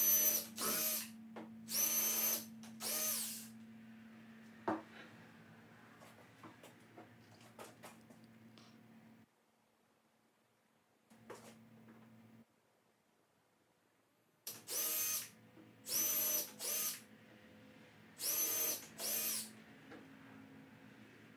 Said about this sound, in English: I went ahead and pre-drilled those holes, and then I went back and put in those specific screws as well.